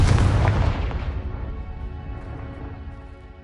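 A Confringo fire-blast spell explodes in Hogwarts Legacy, a single loud, deep boom that hits at once and then rumbles slowly away over several seconds, with no voices over it.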